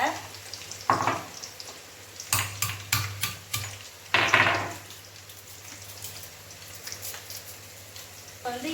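Brinjal sautéing in hot oil for a tamarind curry, a steady soft sizzle with a few sharper clatters of a spoon stirring against the pan, close by with no talk.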